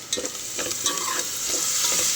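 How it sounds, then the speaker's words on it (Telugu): Coconut masala frying for boti curry in a hot pan, a steady, close sizzle with soft stirring scrapes and no voices. "ఇది కూడా కొంచెం పచ్చి వాసన పోయేంత వరకు ఫ్రై చేయాలి"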